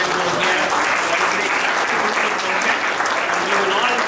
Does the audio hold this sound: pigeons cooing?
no